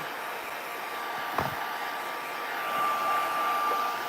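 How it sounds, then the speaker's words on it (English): A steady, close blowing roar of a heat gun runs throughout, with a faint thump near the start and a thin tonal whine toward the end. "I'm going to hit this with my heat gun"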